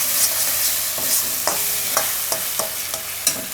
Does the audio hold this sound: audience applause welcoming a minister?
no